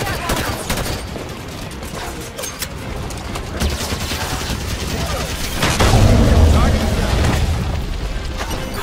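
Weapons fire and booming explosions from a Halo Wars space battle, with ships focusing fire on Covenant air forces; continuous dense rumbling barrages, growing heavier and louder near the end, under a talking voice.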